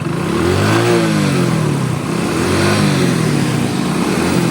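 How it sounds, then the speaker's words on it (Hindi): A car engine revved hard while in gear with the clutch pedal held down, a loud steady mid-pitched roar that rises and falls in pitch across the whole stretch, with no talk over it. "अब हम रेस देंगे"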